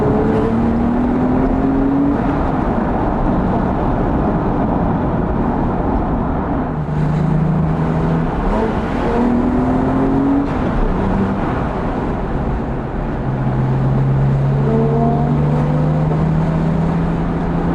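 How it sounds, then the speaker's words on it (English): A Porsche 981 Boxster GTS on a mountain pass road, its flat-six engine heard from behind as it shifts down into second and pulls through the gears, a steady loud drone with rising and falling revs and wind, no talk. "Always nice to hear the GTS from behind."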